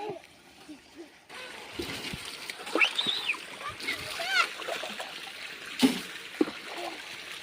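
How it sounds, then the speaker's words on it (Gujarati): Water from squirt guns splashes and sprays outdoors during Holi play, intermittent splatters and trickles with children's voices and chatter throughout. "તો આ જો પ્રિતેશ એને યુવરાજને નવરાવવાનું ચાલુ કર્યું છે પિચકારીઓથી"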